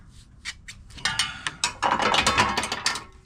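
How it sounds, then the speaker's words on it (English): Channel locks gripping and working a spring hose clamp off a radiator hose on a Jeep Rubicon, a close series of metallic clicks and scrapes, sparse at first, then a denser burst of rattling clanks. "if you don't have one of these fancy fangled hose clamp pullers, you can use a pair of channel locks."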